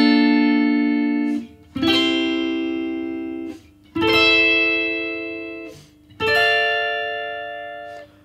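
An electric guitar plays the bridge of the One Piece ending theme. Four sustained, distorted chords are struck roughly every two seconds, each ringing out and decaying before the next, loud and close with no talking.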